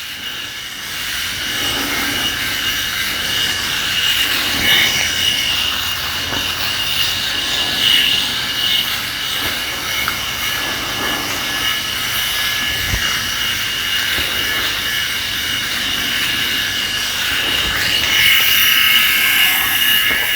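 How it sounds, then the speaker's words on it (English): A Philips Head Shaver Pro 9000 electric shaver runs across the back of a head, giving a steady, close buzzing whir with a high, slightly rough edge. It holds an even level throughout, with no talking. "the cupping design is great because it's brilliant for shaving the back of the head like that, very easy"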